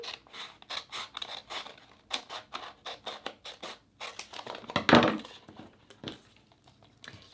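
Scissors cut through transfer tape for a Cricut Joy label in a quick run of close, crisp snips, one louder rustling crunch midway, then a few more snips.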